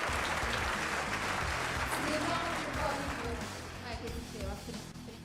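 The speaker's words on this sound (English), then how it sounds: "We need a round of applause here." An audience at a team launch presentation breaks into sustained clapping that gradually fades, with voices heard beneath and after it.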